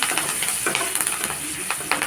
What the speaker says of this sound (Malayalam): ഉഴുന്നിട്ട് കൊടുത്തിട്ട് നമുക്ക് ഇതിലേക്ക് വേപ്പില വറ്റൽമുളകും കൂടി നല്ലോണം ഇളക്കി മൂപ്പിക്കാം